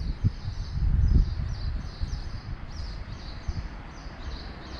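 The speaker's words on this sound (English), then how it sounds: "Listen to these birds." Birds chirping outdoors near a beach, small tweets and calls scattered high over a low rumble of wind and handling noise, fairly faint with no talk.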